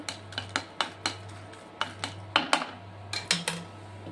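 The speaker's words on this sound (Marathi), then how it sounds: "आता ह्या मस्त अशा खालीवर करून एकदम भाजून घ्यायच्या मस्त" Dried red chilies are dry-roasted and stirred in a pan for Kolhapuri misal, with a utensil giving sharp, irregular metallic clinks and scrapes over a low steady hum.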